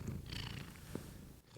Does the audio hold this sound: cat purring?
yes